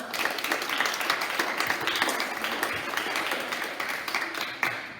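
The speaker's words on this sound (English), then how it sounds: "So let's give a special clap to our best actress, JC Gunter." An audience claps steadily at a school leavers' assembly awards ceremony, a dense, even wash of applause that holds at the same level for about five seconds.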